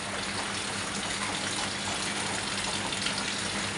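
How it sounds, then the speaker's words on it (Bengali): Rain beginning to fall makes a steady, dense hiss of water that holds at an even level from start to finish, with no voices. "ঠিক একটু পরে এই যে বৃষ্টি শুরু হয়ে গেল"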